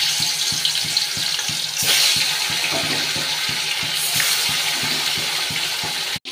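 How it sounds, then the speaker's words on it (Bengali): Fish fries in hot mustard oil in a wok with a loud, steady, close sizzle and hiss, a faint regular ticking underneath, and no talk. "তেলটা গরম হয়ে গেছে, এবার আমি মাছ ছেড়ে দেব।"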